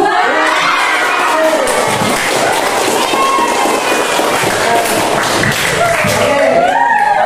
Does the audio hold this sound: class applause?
yes